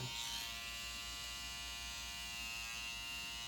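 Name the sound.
electric hair clipper cutting hair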